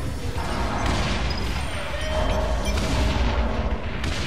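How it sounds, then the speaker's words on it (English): Explosions and gunfire in the video game Saints Row The Third, a dense continuous roar of booms and mechanical clatter filling the whole stretch, loud and steady with no speech. "All the epic explosions make this game so beautiful."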